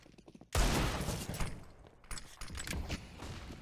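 Bursts of SMG fire in a CS:GO pro match on Mirage, a sudden loud volley followed by continued rattling shots and distant gunfire, with no talking.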